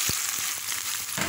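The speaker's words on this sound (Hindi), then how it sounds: "मैं 3 बिल्कुल फाइन स्लाइस की हुई प्याज को फ्राई कर रही हूँ" Finely sliced onions frying in about 1.5 cups of hot oil for Kolkata-style chicken biryani, a dense, steady hiss with a few soft knocks from stirring.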